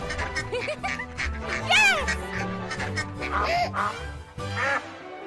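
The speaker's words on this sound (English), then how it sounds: "Bunch of little baby ducks." Cartoon baby ducks in an SMG4 animation quack repeatedly in quick, overlapping calls, loud and close over a bouncy music bed.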